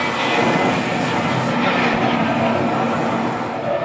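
Jet aircraft engines roar in a flight combat video game, a loud steady broadband whine and rumble filling the whole stretch without pause.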